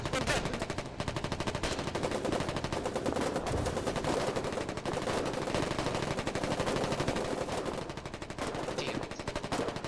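Rapid automatic gunfire and scattered shots from the online war game Foxhole crackle densely and continuously at moderate loudness, with bursts overlapping one another and faint voices now and then.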